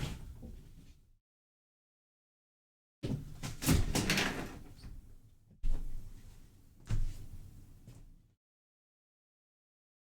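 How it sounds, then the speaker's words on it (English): A window is slid and pushed shut, with a short scrape, a stretch of rattling and sliding, then two sharp knocks as it closes, near and loud with silent gaps around. "let me close that window, bro"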